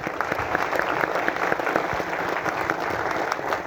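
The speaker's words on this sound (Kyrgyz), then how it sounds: "Негизи бул тасманы биздин режиссер айымыбыз Гүлнара Эшалиевага бир кол чаап коелук." An audience claps for a female film director at a Kyrgyz film premiere, steady dense applause throughout with no one speaking.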